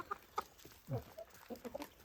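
Six-month-old Jersey Giant chickens cluck in short, scattered bursts, several nearby birds calling irregularly at moderate volume with brief pauses between calls.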